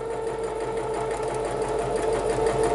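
A sewing machine runs a steady zigzag stitch along the edges of stretchy swimwear fabric, a continuous close mechanical whir with a fast regular rhythm and no talk.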